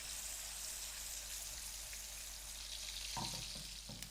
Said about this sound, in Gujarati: પનીરના પીસને આપણે હલકા રોસ્ટ કરવાના છે